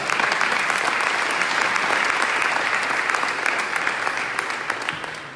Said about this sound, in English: And an applause for them as well.